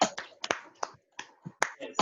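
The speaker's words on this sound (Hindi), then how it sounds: "जोरदार एक बार दीक्षा के लिए एक बार ताली बजाना बनता है।" Students clap their hands in applause during an online physics class, a few sharp, scattered claps at an uneven rhythm, close and crisp with short silences between them.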